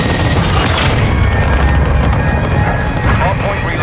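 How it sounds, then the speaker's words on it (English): A cruise missile strike in Call of Duty: Modern Warfare II lands as a heavy, loud booming blast with rumbling debris and crackling gunfire mixed in, while game radio voices talk over it. "Cruise missile away."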